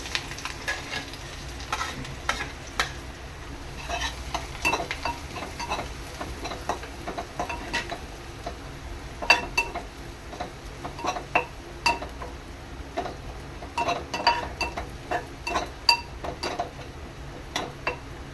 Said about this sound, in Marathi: हे थोडं परतून घ्यायचं आहे याच्यामध्ये आपण भाजलेले शेंगदाणे टाकलेले आहेत